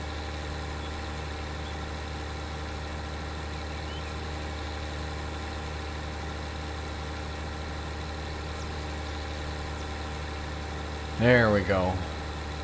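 A vehicle engine in Farming Simulator 19 labors as it bogs down climbing a road, a steady low drone held under strain, with a brief spoken remark near the end.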